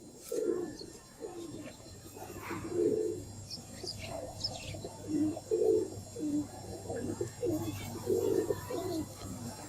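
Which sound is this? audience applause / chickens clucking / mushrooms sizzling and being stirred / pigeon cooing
pigeon cooing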